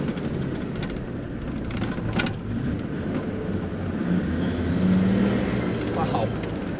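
Land Rover with a Td5 diesel engine on an eco map, pulling hard in third gear: a steady, droning engine and road roar that swells slightly toward the end, heard from inside the cabin.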